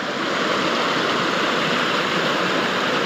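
A small waterfall feeding a rainy-season stream pours in a loud, steady, close-up rush of flowing water, with no voices over it.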